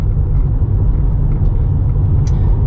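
Steady low road rumble and tyre roar inside a Tesla cruising at 100 on Autopilot, a continuous, fairly loud broadband hum with no voices over it.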